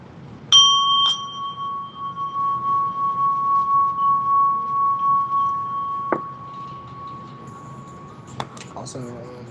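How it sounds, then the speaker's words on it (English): A small bell is struck once, ringing clear and close and fading over several seconds before a brief clink, with a second faint strike near the end. "I'm gonna hit this bell."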